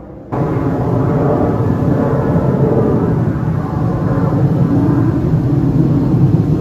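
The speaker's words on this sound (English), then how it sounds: "Oh, that's a slow jet." A slow jet airplane passes overhead outdoors, a steady loud broadband roar that starts abruptly and holds throughout with no talking.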